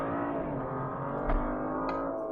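A 2013 BMW 335i xDrive engine revs hard in sport mode under heavy throttle, climbing steadily in pitch, loud and close, with a brief bump partway through.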